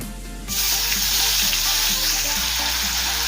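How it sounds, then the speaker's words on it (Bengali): Onion paste drops into hot oil with bay leaf, clove and cinnamon, setting off a sudden loud sizzle that keeps crackling steadily and close. "কিছুক্ষণ সময় নিয়ে পেঁয়াজ বাটাকে ভেজে দেবো"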